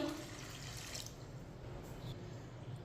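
A glass of water poured into a cooking pot for masoor dal, heard as a soft, steady splashing stream that tapers off over a few seconds, fairly faint, with no talking.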